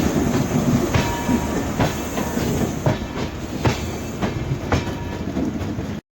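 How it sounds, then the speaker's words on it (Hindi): A WAP7-hauled train crossing the Gorakhdham Superfast Express, with a loud continuous rolling roar and a regular, rhythmic clickety-clack of wheels over rail joints from start to finish. "क्रॉसिंग हमारी हो रही है भटिंडा गोरखपुर गोरखधाम सुपरफास्ट एक्सप्रेस से।"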